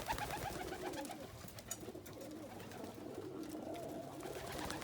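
A young crested homer pigeon coos softly outdoors among grapevines, with low, repeated cooing at moderate distance under faint ambient background.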